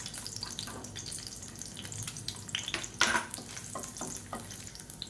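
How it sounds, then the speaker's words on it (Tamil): Four garlic cloves and five dried red chillies dropped into hot oil, giving a busy crackling sizzle with stirring scrapes and one sharp spatter burst midway, close and fairly loud, with no voices. "இப்போ எண்ணெய் நல்லா சூடாயிருச்சு ஒரு நாலு பல் பூண்டு சேர்த்துக்கலாம் இது கூடவே ஒரு அஞ்சு வரமிளகா சேர்த்துக்கலாம்"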